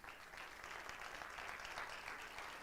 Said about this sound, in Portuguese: Você pode dar uma salva de palmas para Jesus?